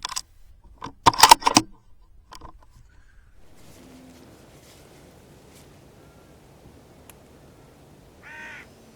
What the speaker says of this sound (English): another hooded crow appeared from the left and landed in the little tree again